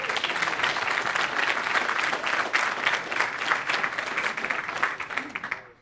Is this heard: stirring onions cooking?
no